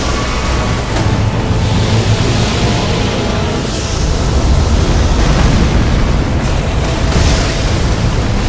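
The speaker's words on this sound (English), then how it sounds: "you can't survive that if you get hit by the explosion." A loud, sustained explosion rumbles in the video game Elden Ring, a dense roaring blast of noise that swells and bursts over several seconds with no voice over it.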